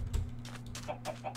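Several short clucking calls from chickens in a Minecraft-style video game over a steady low electronic hum, moderately loud with a game-like backdrop.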